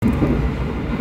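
An Argo Cheribon passenger train on the Jakarta to Tegal run, heard from inside the carriage as a steady, loud low rumble of running gear with no talk.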